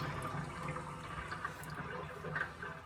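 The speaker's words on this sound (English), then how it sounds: "I'm going to let this water out." Water drains out of a kitchen sink full of soaking pork neck bones, a continuous gurgling, sloshing rush at low to moderate level, with no one speaking.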